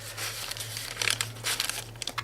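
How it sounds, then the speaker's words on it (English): Sheets of coffee-dyed paper are handled and crinkled while a vintage-style journal is assembled, giving close, continuous rustling with a few sharper crinkles, and no one speaks. "Coffee dye paper."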